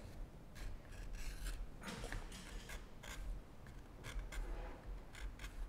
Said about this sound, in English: So using a scissors or sometimes a knife will give you the best access.